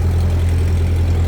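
A Ford 2N tractor engine running steadily at low throttle, a loud, close, even low rumble with no talking.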